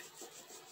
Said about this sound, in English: let me rub this tape down really good. Burnish it down